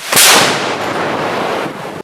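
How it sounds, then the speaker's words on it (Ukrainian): A heavy artillery blast booms close by at the start, several guns firing from different positions, then a long rumbling roll of echoes drifts off into the distance. "гармати з різних позицій починають одночасно навалювати в одну точку"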